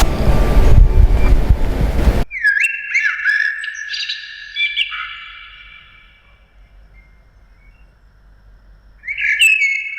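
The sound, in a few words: birds chirping at Humayun's Tomb garden, Delhi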